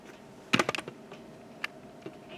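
A quick burst of computer keyboard keys clicking close by on a Pimiga 2.0 setup, followed by a few scattered single taps.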